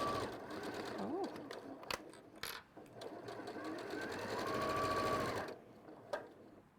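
A sewing machine runs in short bursts and longer steady stretches of rapid stitching, fairly close, with a voice talking faintly in between.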